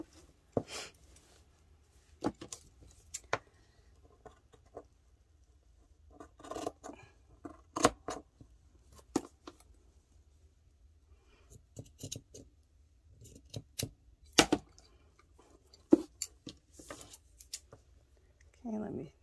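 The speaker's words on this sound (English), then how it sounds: "I gotta line myself up right for to cut this other side." Scissors snip through fabric for a no-sew project bag, giving sharp, scattered cuts with pauses between them, close and fairly quiet. No one talks.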